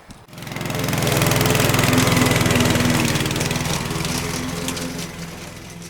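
A lawn mower starts up and runs close by in a yard, its engine roaring steadily with a buzzing, slightly knocking drone that eases a little toward the end.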